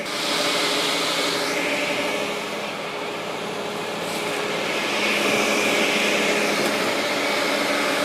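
A saw cuts limb wood of black locust, ash and mixed species into firewood for a house boiler, giving a loud, steady motor drone that runs without a break and dips only slightly partway through.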